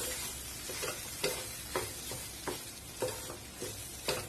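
A spoon scrapes rhythmically through soya cutlet mixture, working in spices and salt. About eight evenly spaced scraping strokes sound close and fairly soft, with no talking.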